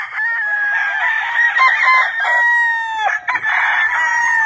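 A loud, close rooster crows in a long drawn-out call, followed by another crow, with clucking breaks in between.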